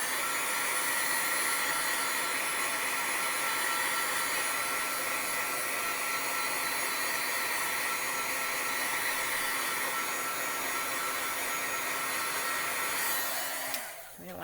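A handheld heat tool blows hot air to set ink on a paper card, a steady, close, fan-like whir that runs unbroken for about fourteen seconds before cutting off.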